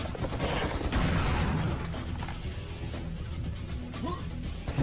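Coach gun blasts in the Serious Sam video game, loud booming shotgun fire with heavy crashing impacts up front, fading into rumbling combat noise.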